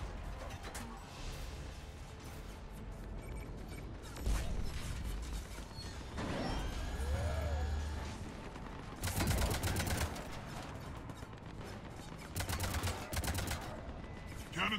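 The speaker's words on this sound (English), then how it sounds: "Cannons engaging." Heavy cannons firing in the Mass Effect 3 video game, a series of loud booming shots spaced a few seconds apart over a steady mechanical background rumble.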